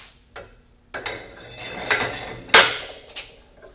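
Bearing puller being clamped onto a water-pump bearing, a series of scattered metallic clanks and taps with one sharper ringing hit, close in a quiet workshop.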